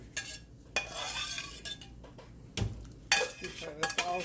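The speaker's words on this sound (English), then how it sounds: "now rinse my pan" Rinsing a cooking pan in a home kitchen gives sparse metallic clanks and clinks with short splashy bursts, fairly faint and separated by quiet gaps.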